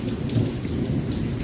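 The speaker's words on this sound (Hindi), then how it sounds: "बहुत तेज़ बारिश हो रही है" Heavy rain pouring steadily, with a deep, continuous rumble of thunder underneath, loud and close with no voices.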